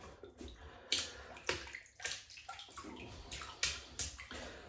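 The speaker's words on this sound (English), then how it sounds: "and then so we'll wet the knot." Water splashes and gurgles as a shaving brush knot is wetted in a basin before lathering a shaving cream, a run of close, uneven sloshes and drips with brief louder splashes.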